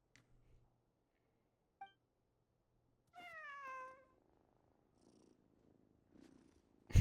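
A cat purrs in the Genshin Impact game, with brief chirping meows over a low purr, the sound coming and going in short bursts around quiet gaps.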